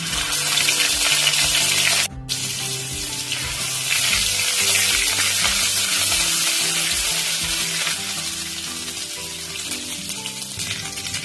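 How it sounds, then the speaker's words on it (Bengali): Cumin seeds sizzle in hot mustard oil in a heated pan, a loud, dense, continuous frying hiss up close that eases slightly toward the end, with no voices. "জিরে ফোড়ন দিয়ে দিচ্ছি"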